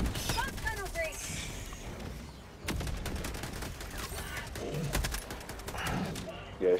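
Rapid bursts of automatic gunfire and explosions from the co-op shooter game Helldivers 2, loud and dense throughout, with players talking excitedly over the battle.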